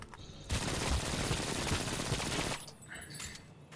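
Gunfire in the Brink shooter game, a sustained loud rattle of rapid automatic shots lasting about two seconds before cutting off, followed by faint background game noise.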